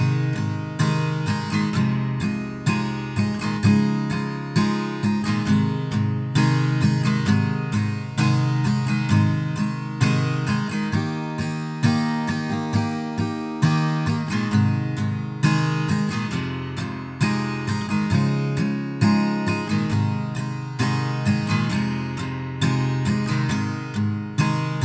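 Acoustic guitar strummed through the verse chords of a song, a steady repeating strumming pattern on every chord, close and even throughout with no voices.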